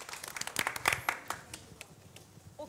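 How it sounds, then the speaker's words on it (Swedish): Light, scattered clapping from a small audience at a jury presentation of a waste-system competition entry, in uneven bursts that fade toward the end. "En applåd till Ann"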